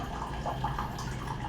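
Water pouring into an electric water boiler, a faint, steady trickling and splashing heard close by for a moment.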